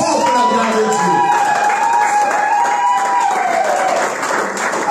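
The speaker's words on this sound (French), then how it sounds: "Si tu es un champion, applaudis très fort pour la gloire" A Sunday church congregation applauds loudly, a dense wash of clapping and crowd noise that holds steady for five seconds, while a raised voice calls out over it.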